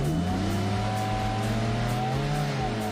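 Race car pulling away from the starting arch at Kalgoorlie, engine note rising and shifting through the revs, with harmonics sweeping upward as it accelerates, loud and continuous throughout.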